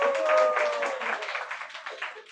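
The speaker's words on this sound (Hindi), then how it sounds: "ताली बजाओ तुम लोग।" Listeners at a Hindu devotional discourse on Sri Caitanya Bhagavat in Jaipur clap together in a soft, fairly distant burst lasting a couple of seconds, with a faint sustained tone behind it.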